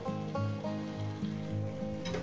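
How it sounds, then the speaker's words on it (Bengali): Chicken pieces fry and sauté in a pan for a cauliflower chicken curry, with a steady close sizzle and a low rhythmic scraping of stirring running under it, and no talk. "চিকেনটা দিয়ে আমি সুন্দর করে আরো মিনিমাম 20 থেকে 25 মিনিট আমি কষবো।"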